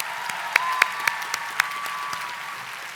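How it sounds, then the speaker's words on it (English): A crowd applauds steadily at a master's commencement ceremony, a dense wash of clapping with a few sharper claps standing out, fading slightly toward the end. "Let's give Stephen another round of applause."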